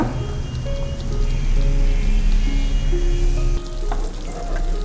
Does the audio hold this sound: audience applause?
no